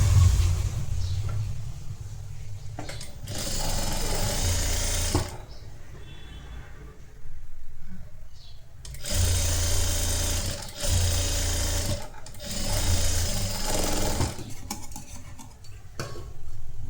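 A domestic sewing machine stitches a blouse piece for a cross-neck designer blouse in several loud bursts of rapid whirring, broken by short quiet pauses between runs.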